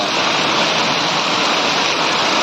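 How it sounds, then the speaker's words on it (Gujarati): Heavy monsoon downpour in Gariyadhar, Gujarat, a dense, steady roar of rain close by that fills the whole clip without pause, with no voices over it. "તો આપ જોઈ રહ્યા છો ફૂલ વરસાદ આવી રહ્યો છે"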